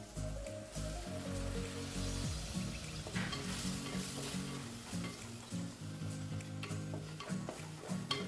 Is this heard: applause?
no